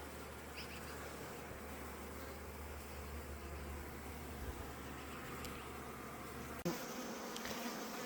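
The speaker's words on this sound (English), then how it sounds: "Here's the hive with the Kona Queen." Steady dense buzzing of honey bees at an open beehive in autumn, a close continuous hum that holds level throughout, with a low background drone that cuts out near the end after a brief knock.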